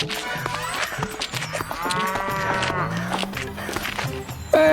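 A buffalo in a crop field lets out a long, drawn-out bellowing moo, loud and close, with scattered thumps and rustles around it and a brief voice at the end.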